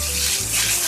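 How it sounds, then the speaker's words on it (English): Chopped onion sizzles in a hot stainless steel pan, a loud steady hiss close up with no voices over it. "Now you're going to hear it sizzle because I've been having this heated."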